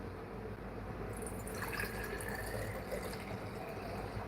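Nitric acid poured into a container, used to dissolve gold, a steady liquid splash and trickle with a brighter gush partway through, close and moderately loud, no voices.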